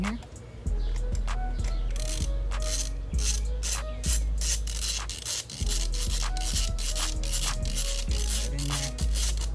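Ratchet turning a 5/8 spark plug socket to install a spark plug in a Hyundai Veloster N engine, a series of quick rapid clicking bursts with short pauses between strokes, close and clear.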